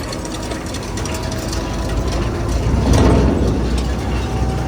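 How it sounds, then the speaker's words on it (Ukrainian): A Demetra seed drill sows soybeans, making a loud, continuous mechanical rumble with clattering, ratcheting metal parts and a low engine drone, close and steady throughout. "Сіємо сою у відбі. Так, відкрию бачок і будемо починати сіяти."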